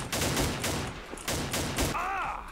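Rapid bursts of gunfire from a weapon in a shooting video game, loud and close, several sharp volleys in quick succession followed by a brief higher whooshing effect near the end.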